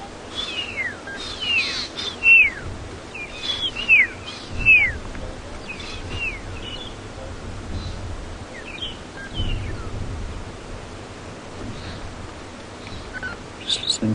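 Birds call repeatedly across a game reserve on a morning safari drive, a string of short whistled chirps and trills spread through the first half and scattered later, moderately near over a low rumbling background.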